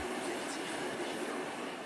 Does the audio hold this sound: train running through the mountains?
yes